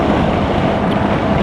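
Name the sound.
strong gusting wind while riding a BMW motorcycle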